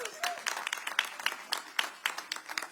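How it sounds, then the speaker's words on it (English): Scattered, fairly quiet applause comes from the audience at a Houston mayor's COVID-19 update, with spaced clapping and a voice talking over it. "yeah, you can clap for that."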